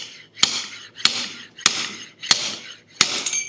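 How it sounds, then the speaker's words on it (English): Five sharp metallic clanks from a slide hammer pulling an axle out of a Dana 44 rear axle on a Scout restoration, evenly spaced about two thirds of a second apart, close and alone. "My slide hammer."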